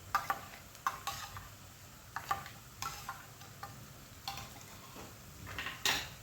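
Tomato, green chilli, garlic and ginger puree sautéing in a pan, with a low steady sizzle under repeated sharp scrapes and clinks of a spoon stirring against the metal, close and alone.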